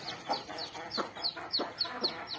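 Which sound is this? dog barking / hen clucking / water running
hen clucking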